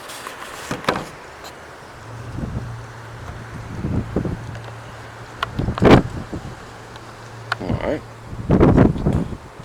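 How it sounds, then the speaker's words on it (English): Gusty wind on a blustery day outdoors beside a jon boat under rebuild buffets the microphone in uneven rumbling bursts that swell and fade, with a short spoken word in between. "It's a windy day today."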